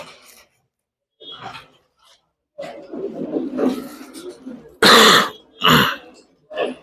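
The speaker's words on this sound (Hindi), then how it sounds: "खांसी नहीं सही हो रही मेरी" A man with a worsening cough clears his throat and coughs several times, close and loud, with a few sharp harsh bursts after some low rough throat sounds.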